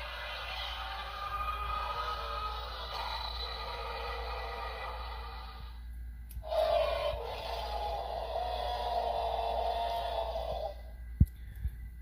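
A Mattel Jurassic World Dominion Sound Surge Giganotosaurus toy figure sounds off from its button with two raspy, growling roar bursts of moderate loudness, separated by a short gap, followed by a small click.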